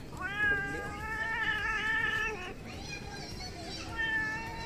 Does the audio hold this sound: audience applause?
no